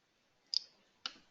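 Two crisp mouse clicks sound about half a second apart while someone works in SAP HANA Studio, close and isolated against near silence.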